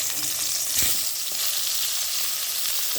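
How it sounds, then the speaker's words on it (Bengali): Round eggplant slices fry in reheated hot oil, giving a dense, even sizzle that stays close and loud throughout, with only faint stirring underneath. "তেল আবার গরম হয়ে গেছে, এবার বেগুনগুলোকে ছেড়ে দেবো।"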